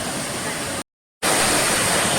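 The Savdav waterfall near Kankavli, where a river drops over a ledge, roars as a steady, dense wash of close white noise, broken once by a brief total dropout before resuming.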